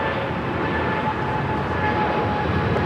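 A China Airlines Cargo plane at LAX gives a steady, loud, broadband jet engine roar that holds without a break, with no voices.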